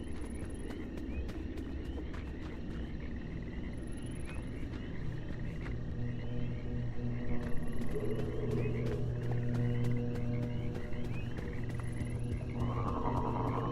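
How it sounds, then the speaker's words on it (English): Frogs croak in the dark night ambience of the video game Pacific Drive, repeated faint calls over a steady low environmental hum near a broken-down car. "I like that you can hear frogs."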